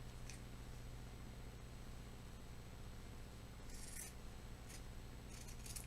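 Scissors snip into corset fabric while a strapless bodice with princess seams is draped, giving a few faint, quick cuts separated by pauses over a steady low hum.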